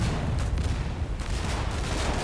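Artillery fire in the game Foxhole, a dense rumbling barrage of heavy booms and distant gunfire blending into a continuous loud roar, no voices.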